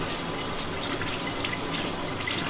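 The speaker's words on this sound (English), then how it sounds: "Got the water hooked up to the toilet." Steady rushing water flows continuously at close range as a toilet tank refills in a homemade RV, a constant hiss, with no voices.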